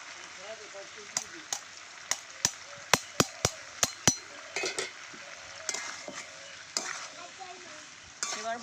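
Grated ginger and raw mango pieces being sautéed for a pickle, with a steady low sizzle broken by a series of sharp spoon-against-pan knocks, some in quick succession, and faint stirring scrapes between them.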